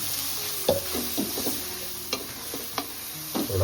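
Ripe jackfruit pulp sautés in a pan, a soft continuous sizzle broken by intermittent scraping and clinking from a spatula stirring, near and unaccompanied by speech.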